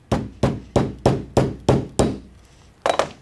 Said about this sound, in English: so we'll hammer that down